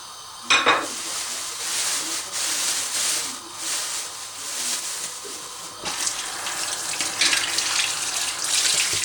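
Steady sizzling and crackling of onions sautéing in hot oil, with occasional stirring scrapes, close and fairly loud, no talking.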